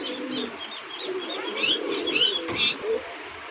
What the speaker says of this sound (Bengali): দর্শক দেখতে পাচ্ছেন সিঙ্গেল একটা কবুতর আছে ড্যানিশ 3 পট্টি লাল গিয়ার